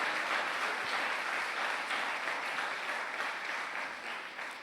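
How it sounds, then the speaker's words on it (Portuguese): A church congregation applauds in a dense, sustained wash of clapping that slowly tapers off, with no voices over it. "Se vai aplaudir, aplauda dando glória a Deus."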